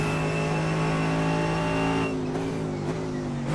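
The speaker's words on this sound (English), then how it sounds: "It's got that big old V8." A Mercedes-AMG GT3 race car's V8 engine in an iRacing sim at Silverstone roars at high revs, its pitch climbing and then dropping in quick shifts, loud and close with no talking.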